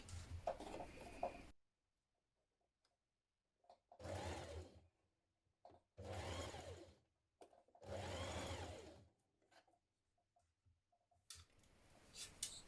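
A sewing machine stitches a blouse collar in several bursts of fast whirring, each lasting about a second, separated by near-silent pauses.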